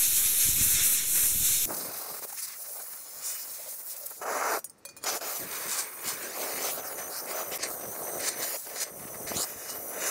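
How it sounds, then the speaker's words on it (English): Compressed air blows hard to dry a part during cleanup of a Wheel Horse 704 garden tractor: a loud, steady hiss at first, then softer, uneven bursts of blowing air. "Next, I'm going to dry it out with compressed air as much as I can"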